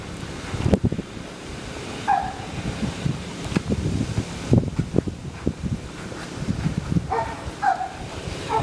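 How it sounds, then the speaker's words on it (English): Gusty outdoor wind buffets the microphone in uneven, rushing bursts that rise and fall across the whole clip, with faint scattered sounds in the distance and no clear talking. "But the wind is blowing, as you can see, so that may have affected it."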